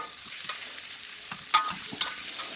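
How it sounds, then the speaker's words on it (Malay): Onion, garlic and ginger stir-fried in a pan, a soft steady sizzle with a few sharp scrapes and clicks of a utensil. "kita kacau lah dia bagi dia garing ya"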